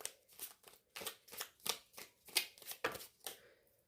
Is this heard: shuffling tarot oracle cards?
yes